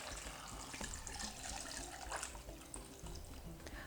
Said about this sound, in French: On va mettre notre litre d'eau.